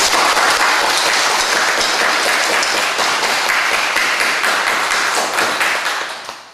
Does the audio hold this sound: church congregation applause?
yes